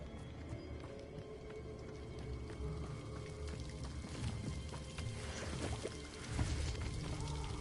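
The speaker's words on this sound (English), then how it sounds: "The waterfall." A waterfall in a video game, a continuous splashing, pouring wash of water heard steadily at moderate distance, with a slightly louder surge near the end.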